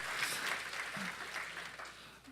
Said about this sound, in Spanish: Hermano, eso merece un aplauso.